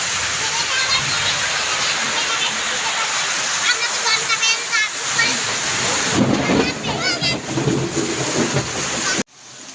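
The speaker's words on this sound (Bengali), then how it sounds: "প্রচণ্ড জোর বৃষ্টি পড়ছে" Heavy rain pours down steadily outdoors during a storm with lightning and a power cut, a dense, loud hiss filling the whole stretch, with faint voices partly heard beneath it before the sound cuts off abruptly near the end.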